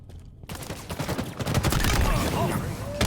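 Rapid video game gunfire erupts after a brief pause and continues as a dense, loud burst of shots with a brief trailing crack at the end.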